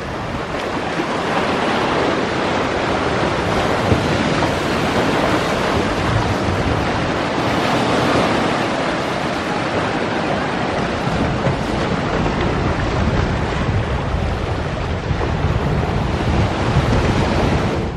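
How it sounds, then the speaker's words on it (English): Ocean waves break on a beach at Grand Turk, a continuous loud roar of surf and wash with wind buffeting the microphone, steady and unbroken with no talking. "You just want that relaxing sound of all the waves."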